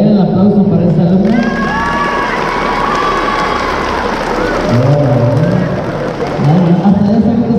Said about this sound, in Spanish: A ver, el aplauso para esta alumna.